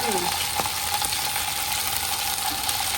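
Mustard seeds and stingray fish fry in hot oil, a dense continuous sizzle heard up close and fairly loud, with no talking over it.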